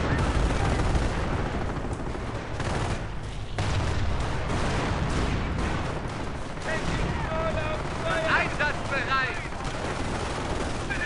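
Gunfire in a World War II real-time strategy game battle: dense crackling shots and bursts over a continuous noisy rumble, with a voice talking over parts of it.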